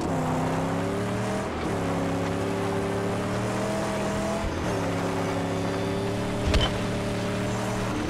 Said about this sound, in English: We can get the engine freaking going nuts, but we cannot do burnouts.